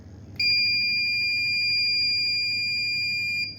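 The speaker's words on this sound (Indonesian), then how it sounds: "Buzzer berbunyi" A buzzer in a smart farm SCADA system, switched on manually, gives one loud, continuous high-pitched electronic tone lasting about three seconds before it cuts off.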